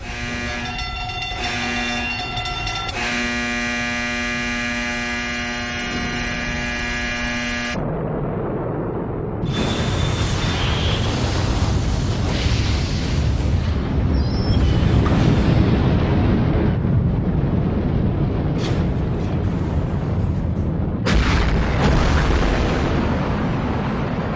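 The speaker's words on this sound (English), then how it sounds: "This is the power of a hydrogen bomb." Hydrogen bomb explosion: a massive, sustained roar and rumble that swells and stays loud throughout, with deep rolling low-end energy and a few sharp bursts, following a brief tonal passage at the start.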